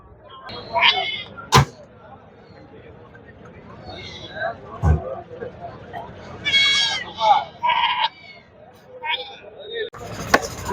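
Sheep and goats bleat repeatedly at the Puthiyamputhur goat market in Thoothukudi district, several calls near and far mixed with traders talking and occasional sharp knocks.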